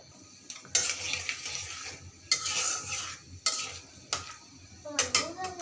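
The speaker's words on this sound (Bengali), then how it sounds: "তেল গরম হয়ে গেছে, একটু পাঁচফোড়ন আর একটা তেজপাতা দিয়ে দিলাম।" Panch phoron and a bay leaf hit hot mustard oil in a pan, with bursts of sizzling and utensil scrapes broken by short pauses and sharp clinks, close and moderately loud, with no one talking.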